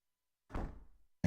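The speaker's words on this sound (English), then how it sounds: "We have a wooden door" A wooden door in the blocky sandbox game Minetest swings open with a single short creak and thunk after a moment of silence, followed by the sharp onset of another sound at the very end.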